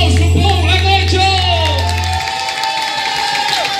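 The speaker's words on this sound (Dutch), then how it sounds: "En doe een goed applaus voor Paul en Nigel." Audience at a carnival revue cheering, whooping and applauding, a dense crowd roar with a low sustained hum underneath for the first two seconds, then continuing crowd noise with voices mixed in.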